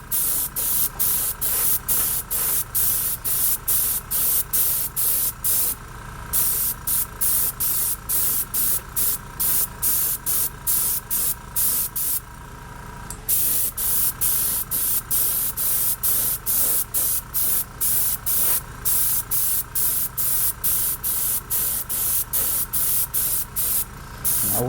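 An airbrush sprays craft acrylic paint in repeated bursts of loud, steady hissing, each lasting about a second, broken by short gaps and a couple of longer pauses.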